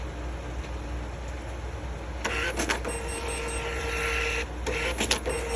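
A budget Bluetooth thermal receipt printer, also connected by USB with a cash drawer, runs a test print: two bursts of whirring, buzzing feed noise over a steady hum, close and moderately loud, with no talking.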